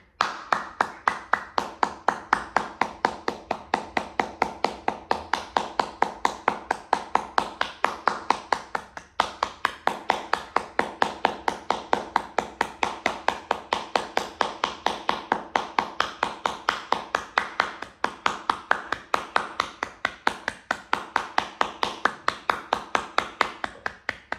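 Repeated crisp hand claps during a yoga breathwork exercise, a steady rapid series of sharp close claps going on without a break for over twenty seconds, alone with no talk.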